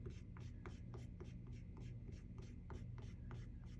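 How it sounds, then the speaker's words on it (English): Soft, quiet rubbing and scratching as charcoal on drawing paper is erased, in short repeated strokes at a steady rhythm, close and faint. "So erase out some of that"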